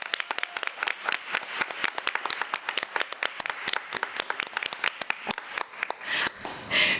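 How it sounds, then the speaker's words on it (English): Scattered applause at a special board meeting, a smaller group clapping with individual claps clearly audible, steady for several seconds before trailing off into faint room noise. "please give them a round of applause as they come"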